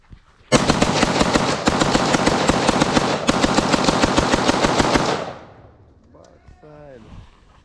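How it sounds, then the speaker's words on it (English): A long, loud burst of rapid gunfire rattles on for several seconds during a hog hunt in Florida, then cuts off, leaving quieter voices and background sounds. "Get some rapid fire."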